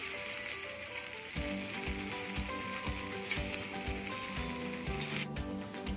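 Jackfruit paniyaram fry in a pan with a dense, steady sizzle, joined by regular low knocks and scrapes as pieces are turned, over faint background music.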